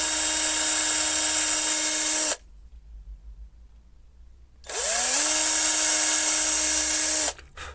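A drill bit bores pin holes in a wooden snowman decoration. The drill gives a high, steady whine in two bursts of a few seconds each, separated by a quiet pause, and ramps back up at the start of the second run.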